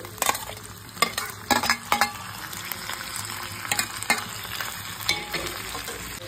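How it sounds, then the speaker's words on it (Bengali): Chicken pieces dropped into a sauce mix for chilli chicken, sizzling in a hot pan with repeated sharp scrapes and clatters of stirring at an uneven rhythm, close and clear with no talk. "এরপর চিকেনগুলো এর মধ্যে দিয়ে দিচ্ছি"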